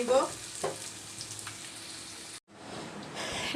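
Strips of pointed gourd and potato fry in a pan, a continuous close sizzle with a few soft stirring knocks and a brief dropout near the end before the frying resumes.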